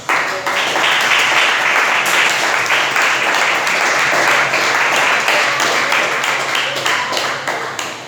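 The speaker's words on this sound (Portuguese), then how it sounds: "Você assenta, desocupa as suas mãos e aplaude os céus bem forte." A church congregation at a Portuguese-language service in California gives a long, loud, steady burst of applause, a dense wash of clapping that fills the room from start to finish.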